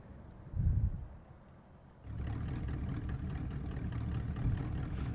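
Police car engine in the video game Driver, a steady mid-pitched engine drone that rises after a brief quieter lull and holds at a constant level to the end.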